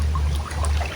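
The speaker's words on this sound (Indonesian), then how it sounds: "Ini sungai tempat kami mau lewat" River water flows steadily with a constant rushing wash and a low rumble, close and fairly loud with no break.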